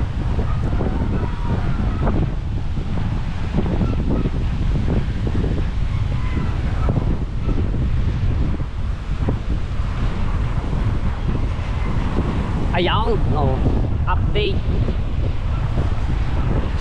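Strong habagat monsoon wind gusting hard against the microphone in a continuous heavy roar, with a person speaking briefly under the buffeting.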